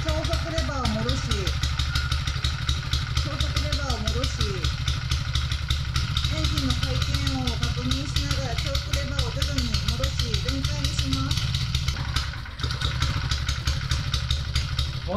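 Petrol engine of a plate compactor running right after starting, a loud, close, steady clattering drone throughout, with a voice speaking over it.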